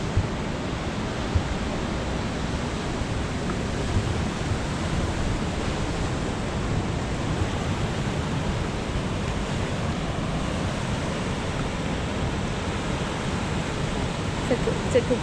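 Ocean surf rolls onto a Garden Route beach in South Africa in a constant, broad wash of breaking waves, with wind buffeting the microphone and faint voices in the background.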